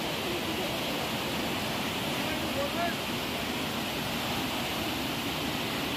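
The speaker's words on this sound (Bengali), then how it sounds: "এখানে তোমরা দেখতেই পাচ্ছ জলের স্রোতটা কতটা বেশি, এবং আওয়াজটাও তোমরা শুনতেই পাচ্ছ।" Rushing water at Bhatinda Falls near Dhanbad, Jharkhand, roars as a dense, steady broadband wash, loud and continuous with no breaks.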